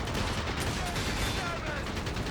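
Anti-tank rifles fire amid dense battle noise in Company of Heroes 3, a loud continuous wash of gunfire and rumbling explosions with no clear separate shots.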